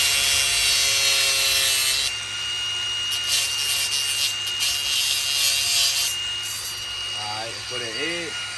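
Steady, loud abrasive grinding from an angle grinder cutting through a brake line on a two-door Ford Bronco, continuous and close, shifting tone midway, with faint clinks near the end.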